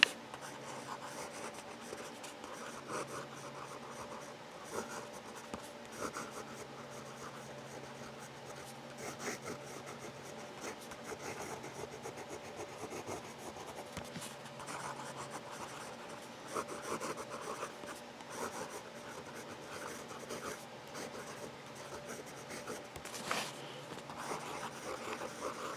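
A fountain pen with a fine nib scratches and glides across paper in a quiet room, soft continuous rubbing strokes with small ticks between words, close and faint.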